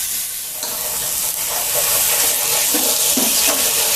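About a quarter kilo of washed, turmeric-rubbed chicken hits a hot pan for chicken thoran, a loud steady sizzle with scraping stirs of a spoon repeating in the second half.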